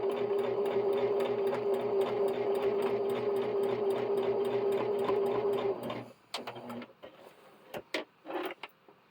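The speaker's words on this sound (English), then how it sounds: "But I can sew it down, and now it just looks like I've got a little tab up there." A sewing machine stitches down a small fabric tab for a rope bowl craft, running fast and steady with a rapid mechanical whir for about six seconds before stopping, followed by a few faint clicks and handling sounds.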